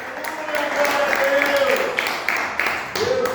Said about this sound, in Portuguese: Dê uma forte salva de palmas que exalta o nome do Senhor Jesus.